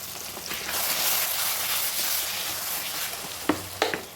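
Kashmiri chilli powder, vegetable masala and kasuri methi sizzle steadily as they fry in a pan for a cauliflower roast. The hiss is close and constant, with a couple of sharp clinks near the end.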